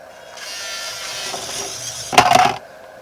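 The geared motor of a wired 1/16 scale toy excavator whirs up, running steadily for a couple of seconds before a louder, harsher grinding burst near the end, then stops, heard close and alone.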